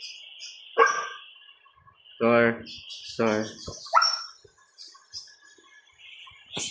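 A dog gives a few loud, separate barks with pauses between them, alongside faint bird chirps, and a person briefly speaks.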